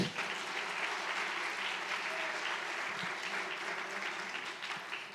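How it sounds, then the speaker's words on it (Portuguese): Church congregation clapping together during a worship service, a steady, even wash of applause that holds at moderate level throughout, somewhat distant and roomy. "Vamos aplaudir ao Senhor."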